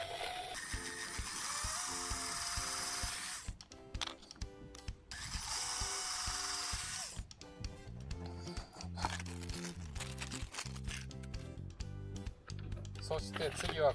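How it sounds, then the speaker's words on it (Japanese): A 5 mm drill bores screw holes through a wooden cutting board being made into a skateboard tail guard, whining in two sustained bursts, then clattering and ratcheting handling noises, all fairly quiet and close. "まっすぐに穴を開けてきますよ。"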